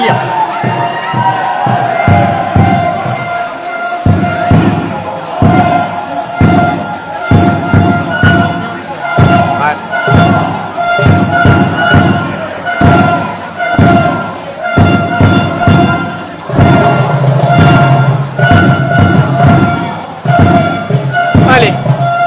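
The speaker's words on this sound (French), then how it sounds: "La foule qui est en délire." A packed crowd at a men's national-league basketball game roars continuously, with rhythmic stomping and thudding bursts and scattered shouts, loud and close throughout.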